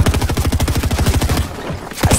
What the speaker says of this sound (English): GG's player eliminated with the shotgun